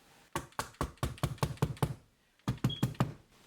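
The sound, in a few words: hammer tapping rubber and plastic pegboard anchors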